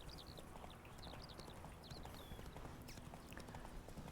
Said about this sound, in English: Horse incoming.